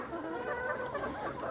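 Healthy, vaccinated laying hens on a poultry farm keep up a dense, continuous clucking chorus, close and moderately loud, with no voices.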